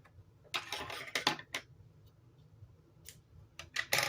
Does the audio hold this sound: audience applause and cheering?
no